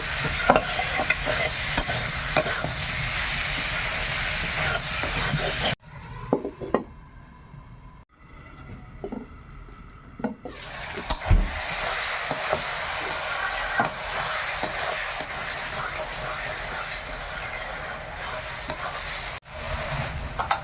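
Cabbage stir-fried with spices in a pan for cabbage khichuri sides: a steady sizzle broken by scraping stirs, with a brief quieter pause midway before the loud frying returns, close and alone without voices.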